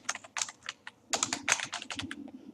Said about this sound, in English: Here I am typing my name